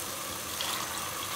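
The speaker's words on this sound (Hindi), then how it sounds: "पानी डालूँगी कि दाल गल जाए।" Water pouring into lentils in a cooking pot after turmeric is added for Lahore street-style dal chawal, a steady close splashing fill that runs continuously and alone.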